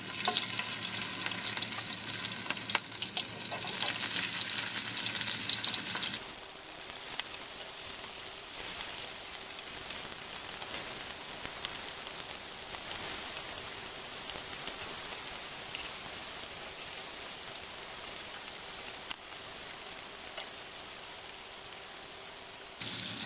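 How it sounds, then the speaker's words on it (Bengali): Shrimp fry in hot oil over a low flame for a Bangla-style prawn curry, a steady bubbling sizzle that drops to a softer, even hiss after the first few seconds and continues alone. "এখন আমরা এক এক করে সব মাছগুলোকে তেলের ভিতরে দিয়ে সুন্দর করে হালকা জালে ভেজে নেব।"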